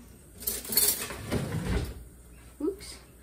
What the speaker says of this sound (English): I do this while I'm cooking, I just clean the spoon.